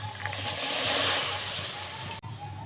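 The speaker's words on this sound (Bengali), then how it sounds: "এখানে আমি মটরশুঁটিগুলো ছাড়িয়ে নিয়েছি এই জলের মধ্যে দিয়ে সেদ্ধ করে নেব" Shelled green peas slide into a pot of water for boiling, making a soft, sustained splash and slosh close by while someone speaks over it.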